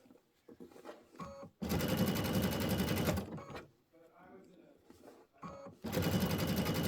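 A sewing machine with a stitch in the ditch foot runs in two loud bursts of rapid, even stitching, with quieter handling noises and a few words of talk between them.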